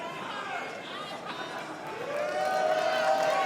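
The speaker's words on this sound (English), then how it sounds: "you can see just how big this crowd is here in Chalmette, Louisiana for Hard Times 3" Large crowd chatter and murmur at a Hard Times 3 wrestling event in Chalmette, Louisiana, a continuous hum of many voices that swells slightly toward the end, with a commentator talking over it.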